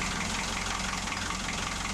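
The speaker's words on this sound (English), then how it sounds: "Now I've just turned the engine over in case it's the starter motor stuck on the cob." A boat engine turning over on its starter motor, which may be stuck on the cog, gives a steady, loud mechanical churning and rumble that runs unbroken from start to finish with no voices.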